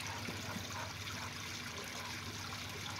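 Water trickles down a garden pond waterfall, a steady low splashing and babbling that stays even and moderately close throughout.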